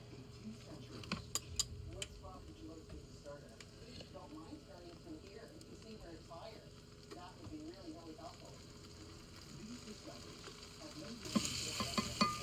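An English muffin sandwich with cheese toasts in a pan, giving a soft, steady sizzle with occasional light taps and scrapes, ending in a louder rustle; a person speaks quietly over it at times.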